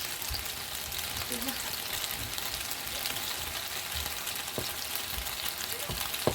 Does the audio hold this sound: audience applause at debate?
no